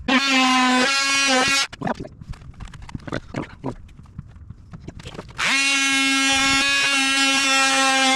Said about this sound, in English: you have to drill out the holes on the bottom here